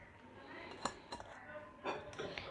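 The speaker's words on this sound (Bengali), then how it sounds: "আমি কিন্তু বিটারের কাঁটা দিয়ে মিশিয়ে নিচ্ছি" Fruit cake batter is folded slowly with the wires of a beater whisk, heard as a few quiet, scattered metallic clinks against the bowl over a faint background.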